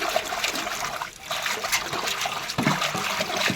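Ponnanganni greens being washed by hand in a vessel of water, with a continuous close trickling and sloshing of water throughout and brief splashes.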